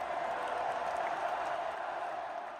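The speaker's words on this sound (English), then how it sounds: "Did I just hear people cheering?" A crowd at a high school football game cheers and applauds in a steady, distant roar that fades slightly at the end.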